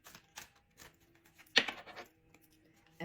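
Tarot cards being shuffled by hand, a few soft, scattered riffles and taps with one sharper flick in the middle, close and quiet with silence between.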